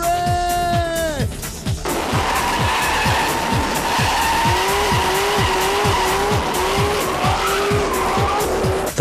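A Hitachi stunt ute at a V8 Supercar event revs hard and skids, its tires squealing continuously over a steady engine roar with rhythmic pulsing, loud and close from start to finish.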